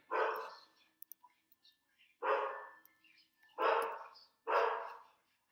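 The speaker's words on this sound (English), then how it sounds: "Apologize for my dog screaming." A pet dog barks and yelps indoors in four loud bursts, each about half a second with short gaps, and a few faint clicks come between them.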